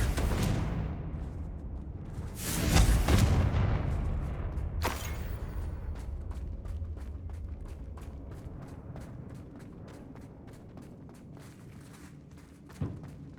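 A Confringo blasting spell goes off in Hogwarts Legacy, in a mine: a loud booming burst, then a sharp crack a couple of seconds later, followed by faint rhythmic ticking and rumble fading into the background.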